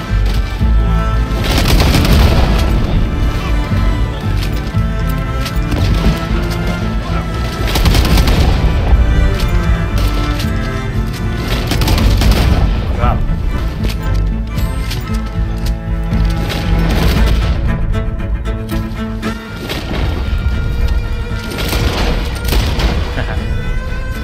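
Explosive ammunition going off in an online Wild West shooter game, with loud, dense gunfire and heavy booming blasts that continue without a break across the whole stretch.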